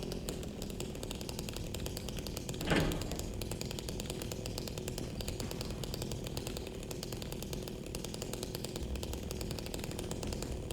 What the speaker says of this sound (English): I have a chainsaw. This has mostly been a chainsaw playthrough